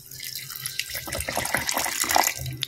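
Water is poured into a mixture of cooked rice, sugar and yeast, making an uneven splashing trickle with small bursts and drips close by, swelling slightly before easing off.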